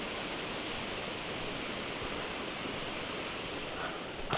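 A flooded winter creek rushes at near-record flow, producing a steady, broad hiss of churning water, constant and fairly close with no voices.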